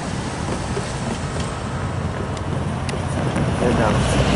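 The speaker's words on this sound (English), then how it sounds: "here comes northbound Amtrak" A northbound Amtrak San Joaquin passenger train rushes past close by as a steady, loud broadband roar with wind buffeting, swelling slightly toward the end.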